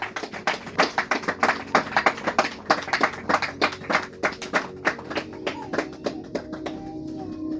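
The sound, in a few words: congregation applauding in church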